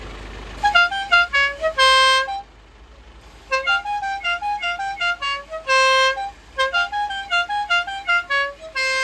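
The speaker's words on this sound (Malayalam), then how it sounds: "ഹോൺ കേൾപ്പിക്കാൻ വേണം." An additional musical horn fitted to a vehicle blares a melodic tune in loud, close bursts of rapid bright notes. A short pause separates two phrases, and no one speaks over it.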